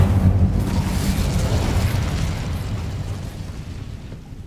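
Incendio fire spell in Hogwarts Legacy, a loud booming whoosh of flame bursting up at once, then roaring and slowly fading over several seconds.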